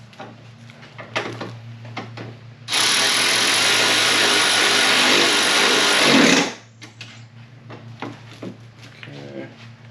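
A power tool whirs loudly and continuously for about four seconds while removing a bolt during radiator and headlight replacement on a 2005 Toyota Sequoia, with quieter clinks and handling noises before and after.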